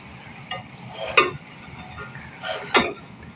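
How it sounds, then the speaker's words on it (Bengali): Beans with spices get stirred in a pan, a few distinct scraping strokes of a spoon against the metal over a low sizzle, fairly close and without speech. "এখন এগুলোকে আমি হালকা"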